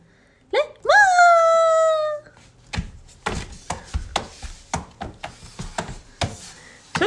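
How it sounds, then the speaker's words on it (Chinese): A small dog gives a drawn-out, rising whine lasting about a second, then a series of sharp, evenly spaced taps or knocks follows nearby. "小狗狗，谁家小狗狗？ 小狗狗怎么站起来了？"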